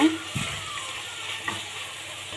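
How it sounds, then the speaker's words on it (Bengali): Tomato is stirred and sautéed with turmeric, salt and spices in a pan, giving a quiet, low sizzle broken by a few brief scrapes and taps of a spoon. No voices are heard. "এবার এগুলোকে সুন্দর করে নেড়ে মশলাটার সাথে এই টমেটোটা কষিয়ে নেব"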